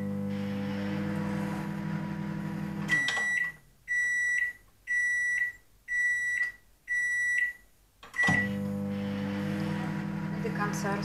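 A microwave oven hums steadily, then stops and gives five evenly spaced beeps before the hum resumes, fairly close and clear, while reheating a batch of edible satin icing.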